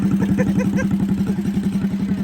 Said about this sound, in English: Ryan is on his little pulling tractor and Aaron's tractor